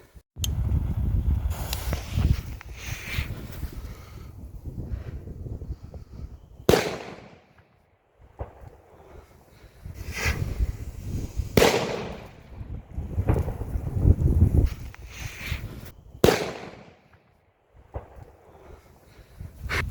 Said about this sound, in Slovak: teraz si ideme na otestovanie zapáliť starú dumbu mydl